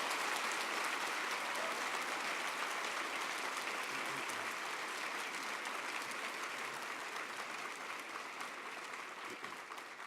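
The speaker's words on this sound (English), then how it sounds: "Big round of applause." An indoor audience at an evening talk with a Holocaust survivor breaks into sustained applause, a dense, even wash of clapping that runs throughout and tapers only slightly toward the end.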